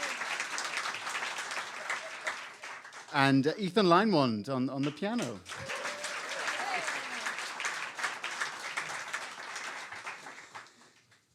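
Audience applause at a live blues show, a steady wash of clapping throughout with a brief sung or musical phrase partway through and a voice talking over it.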